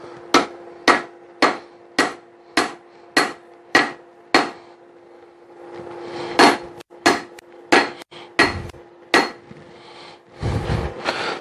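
A hammer strikes a railroad spike over the edge of an anvil while forging a tomahawk, a dozen or more sharp ringing blows in a steady rhythm, close and loud, with a steady hum underneath.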